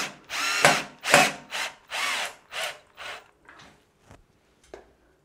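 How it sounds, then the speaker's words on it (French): A power drill drives a bit into solid wood with no pilot hole, giving a string of close, loud whirring bursts that start strong and grow shorter and fainter toward the end, with no talking. "maintenant je vais vous montrer sans pré-perçage dans du bois massif"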